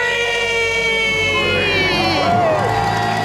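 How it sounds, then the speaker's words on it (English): A small group lets out a loud, sustained celebratory scream and cheer, voices overlapping in a bright continuous roar that rises and wavers toward the end. "Let's hear a debt-free scream."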